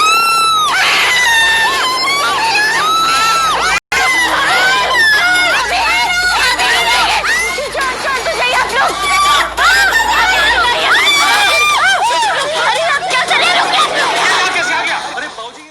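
Loud, sustained screaming from many voices fills a TV serial scene, overlapping shrieks and shouting in a dense crowd-like din that barely lets up for over fifteen seconds.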